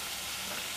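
Vegetables sizzling in a hot pan for a cheesy veg spring bread roll filling, a dense continuous frying hiss heard close and loud, alone.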